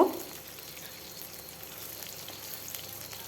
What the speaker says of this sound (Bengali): আলুটা দিয়েও বেশ কিছুক্ষণ সময় ধরে ভেজে নিতে হবে।